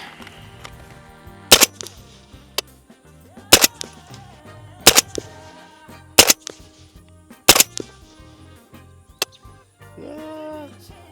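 PSA JAKL rifle firing Hornady Black ammunition outdoors, five loud sharp gunshots spaced about a second or so apart, each with a short ringing tail, followed by a couple of fainter pops and quiet handling noise.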